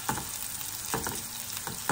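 Onions sizzling in hot oil for a dal tadka, a steady close frying hiss broken by a few sharp stirring scrapes, with no voices.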